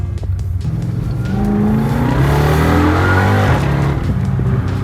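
A loud supercharged car engine revs hard, its roar building with a rising supercharger whine layered on top, then settling back.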